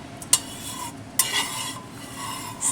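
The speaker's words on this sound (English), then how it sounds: "Stir fry sugar with oil for a couple of minutes." Sugar being stir fried with oil in a pan for braised pork ribs, a soft frying sizzle with a few sharp clinks of the utensil against the pan.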